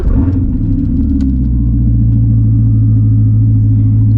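A Corvette C7 Z06 with a seven-speed manual gearbox idles loud and close, a deep steady rumble after the engine fires, settling into an even low drone with no talk over it.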